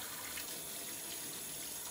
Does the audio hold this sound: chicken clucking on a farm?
no